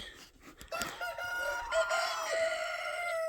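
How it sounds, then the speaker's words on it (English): A rooster crows loudly, a drawn-out rising call, with chickens clucking around it, close by and without talk. "That's how these chickens sound."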